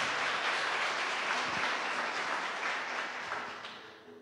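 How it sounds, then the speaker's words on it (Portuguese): Church congregation applauding during a worship service, a dense wash of clapping held steady and fading toward the end, with no speech. "eu queria pedir uma salva de palmas ao Senhor Jesus"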